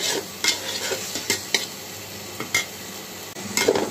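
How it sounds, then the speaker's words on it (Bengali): Meat with peas and spices sizzles steadily in a pan while a spatula scrapes and taps the metal at irregular intervals, close by, with no voices. "মাংসটাও দিয়ে দিলাম, একটু কষিয়ে তারপর আমি চালটাও দিব।"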